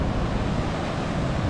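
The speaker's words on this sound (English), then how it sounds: "Rough seas." Rough sea surf breaking along a coastline, a steady broadband wash of waves with wind noise, continuous and fairly loud with no voices.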